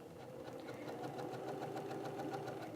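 A sewing machine stitching a dart in fabric runs steadily and quietly up close, its fast, even needle patter continuing alone without a pause.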